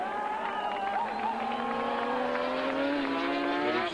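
A big, powerful racing motorcycle accelerates under steadily opened throttle at a 1986 Swann Series race, its engine note rising and holding loud and continuous throughout.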